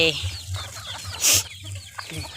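Hens cluck in short, repeated bursts close by, with one louder squawk midway and a steady low rumble underneath.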